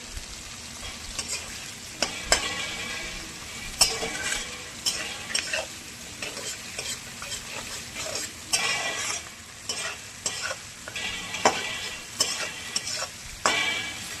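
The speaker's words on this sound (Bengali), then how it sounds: "ভালো করে নাড়তে থাকবো।" Onions fry in a pan under steady stirring, with repeated scraping and clinking of a utensil against the metal over a soft, continuous sizzle, heard up close and with no talking.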